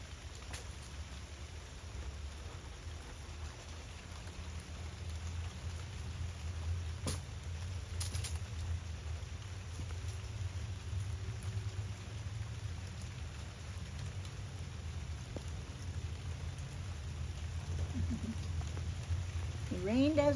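Steady outdoor rainfall hisses evenly for about twenty seconds, with a low rumbling bed beneath and a few brief faint sounds near the end.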